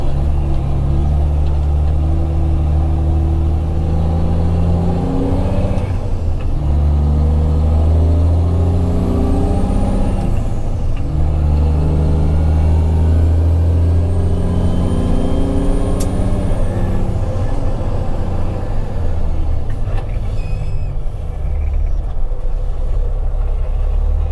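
A truck hauling chained-down equipment drives along the road, heard from inside as a loud, steady low engine drone with rising and falling gear pulls and road rumble throughout.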